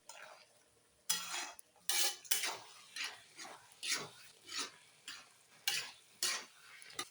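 A pot of bottle gourd curry seasoned with turmeric and salt is stirred in about a dozen distinct scraping strokes, each a short rasping swish with faint bubbling between them and no talk.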